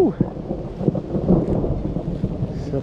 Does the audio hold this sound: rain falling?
yes